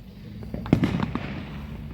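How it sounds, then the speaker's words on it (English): Fireworks lit outdoors on a July Fourth night, with a sharp crackling burst of pops and bangs near the middle, set against a low background rumble. "So I'm lighting fireworks."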